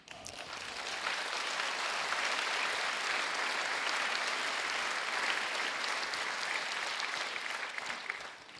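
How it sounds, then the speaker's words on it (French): A sustained burst of applause from a sizable audience at a speaking event, steady clapping that rises quickly, holds for several seconds, then tapers slightly. "vous avez raison de l'applaudir"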